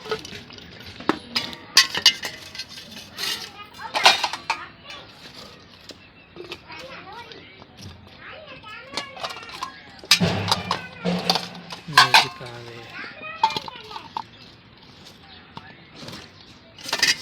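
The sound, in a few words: fruit being put onto plates, dishes clinking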